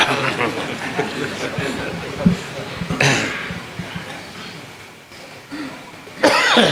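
Coughing from a man during a lecture: a few rough bursts, the loudest near the middle and another at the end, mixed with background noise and some talk.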